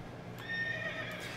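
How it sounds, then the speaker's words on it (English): A horse in a video game neighs in a bright, wavering whinny with soft hoofbeats beneath, brief and moderately close, with no talk over it. "now I will hop on my horse and keep going."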